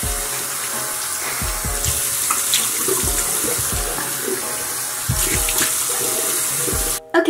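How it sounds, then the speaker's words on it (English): Tap water running into a sink while a face is rinsed, with a steady close stream and irregular splashes and handfuls of water throughout, ending abruptly. "Now I'm gonna rinse it off extra with water."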